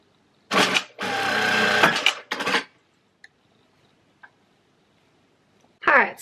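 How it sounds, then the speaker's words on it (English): A sewing machine stitches in short bursts, a long steady whirring run flanked by briefer ones, then a few faint ticks and a final quick burst, up close with no talk. "So annoying trying to sew this without glue."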